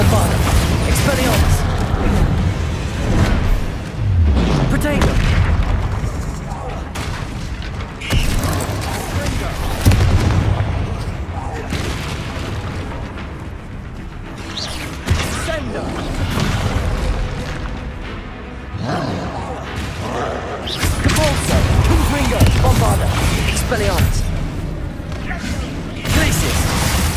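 Spell blasts in Hogwarts Legacy burst out in loud, rapid succession, booming explosive impacts layered one after another with shouted incantations over the barrage throughout.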